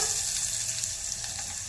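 Tempering spices sizzling in oil in a pan while rasam is being prepared, a steady, close, hissing crackle that holds at an even level throughout with no talk over it.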